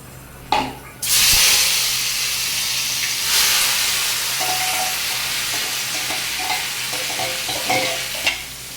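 Chopped ash gourd (pumpkin) dropped into hot mustard-style oil tempered with nigella seeds bursts into a loud, close sizzle, then settles into steady frying hiss with occasional stirring scrapes and clinks.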